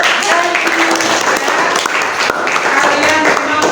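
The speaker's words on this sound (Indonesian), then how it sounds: "tepuk tangan untuk" A classroom group claps in steady applause during an agricultural field-practice session on grass silage, the clapping filling the space loudly and evenly throughout.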